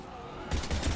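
Gunfire in Mass Effect 3 against Husks: after a short quiet stretch, a quick run of loud, close shots fires in rapid succession.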